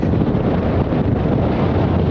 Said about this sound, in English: It's pretty windy out there at the moment.